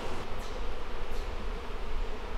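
Honey bees swarm and buzz around an opened hive during a hive split, a dense steady hum filling the air close by, with no talking.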